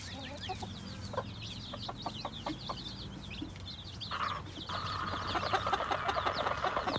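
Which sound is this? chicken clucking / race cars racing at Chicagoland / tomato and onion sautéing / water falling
chicken clucking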